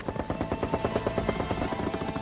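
A Huey gunship helicopter in Vietnam War combat, its rotor beating in a steady rapid thump at moderate distance, fairly faint and continuous with no voices over it.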